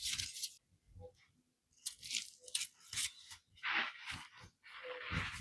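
Scissors cutting resin-coated tin foil in bursts of crisp, crinkly snips and crunches, close and quiet, with short pauses between cuts and no talking.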